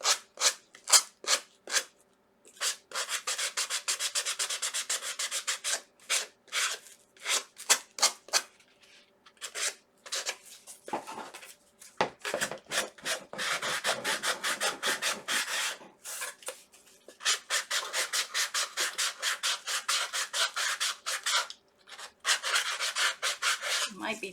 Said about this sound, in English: now what we want to do is take our sanding block to the big heart